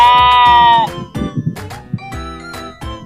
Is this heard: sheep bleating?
yes